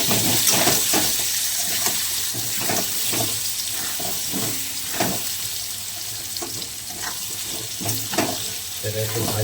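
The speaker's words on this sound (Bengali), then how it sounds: "তো পেঁয়াজ আর আলুটা আমি ঢাকা দিয়ে আরও 2-3 মিনিট ভেজে নেব।" Onion and potato fry under a lid in a covered pan, making a dense, steady sizzle with soft hissing and scattered pops close by, with nobody speaking over it.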